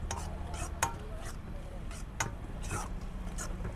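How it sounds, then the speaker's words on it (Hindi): A frying pan clanks onto a stove in a home kitchen while Manchurian is being cooked: a few faint, sharp metallic knocks spaced apart against a low background hum. "फिर से हमने फ्राई पैन चूल्हे के ऊपर रख दिया है।"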